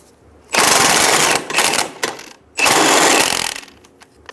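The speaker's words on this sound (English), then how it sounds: "Using a 14mm socket, remove the nut for the sway bar link." A 14mm socket on an impact or ratchet tool loosening the nut of a rear sway bar end link on a 2010-2014 Subaru Outback, two loud sustained bursts of rapid buzzing rattle with a short gap between them.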